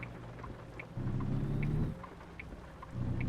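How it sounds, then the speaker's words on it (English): Rain and rolling thunder from the video game American Truck Simulator, a steady patter of rain with low thunder rumbles swelling twice, heard alone without talk. "but like right now we've got rain"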